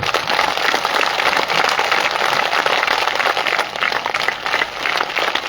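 Audience applause at a Kannada satsang spiritual gathering: dense, sustained clapping from a crowd, steady and fairly loud throughout with no pauses.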